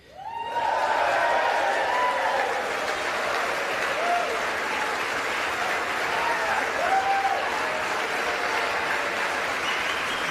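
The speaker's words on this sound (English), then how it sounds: "So all the Republicans are standing and clapping." Sustained applause fills the chamber of the U.S. House of Representatives as Republican members stand and clap, a dense, steady roar of many hands holding at full strength for about ten seconds, with scattered voices and light chuckles underneath.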